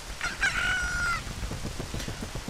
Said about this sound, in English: I hear you, stupid bird.